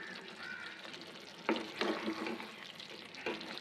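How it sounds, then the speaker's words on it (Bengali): Fried masala being stirred into chicken in a pan: a steady low sizzle with a few distinct scraping strokes of the spoon, close by, with no talking. "মশলাটাকে চিকেনের সাথে ভালো করে মিশিয়ে নিব।"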